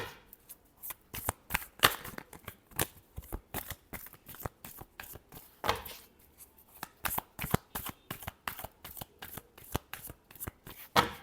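A deck of tarot cards is shuffled again and again, producing rapid papery riffles and flutters in quick bursts with brief gaps, close and continuous throughout, with no talking.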